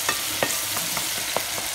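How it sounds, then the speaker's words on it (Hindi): Tomatoes and tadka masala for dal frying in a pan, a steady close sizzle broken by several sharp scraping stirs at an irregular rhythm, with no talking. "बस इसको अब मैंने उतनी देर तक फ्राई करना है जब तक टमाटर बिल्कुल नरम होकर घुल जाएंगे।"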